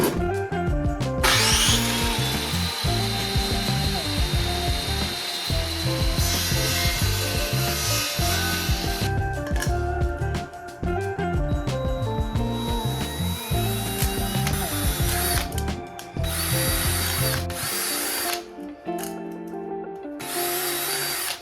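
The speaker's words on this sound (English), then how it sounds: "Now it's time to cut and drill some PVC." Continuous power-tool cutting and drilling through PVC pipe, a loud steady grinding whir with brief pauses and shifts in pitch throughout.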